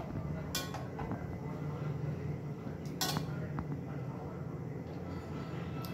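Maggi noodles being stirred with a spoon in a pot of boiling water on a gas stove, a low bubbling rumble broken by a few bright metallic clinks of the spoon against the pot.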